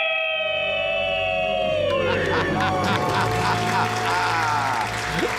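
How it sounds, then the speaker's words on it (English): A family lets out a loud, sustained celebratory scream after paying off their debt, high shrill voices held together for a couple of seconds before breaking into cheering, clapping and excited shouting. "Let's hear a debt-free scream."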